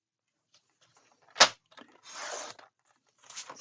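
A paper sheet for a photo album is cut by hand in a quiet room: a sharp snap, then a longer rasping slice through the paper, and another short cutting pass near the end, with silence in between.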